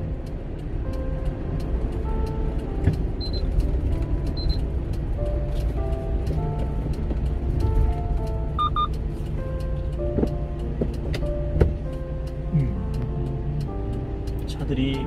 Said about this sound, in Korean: 차들이 많이 오는군요.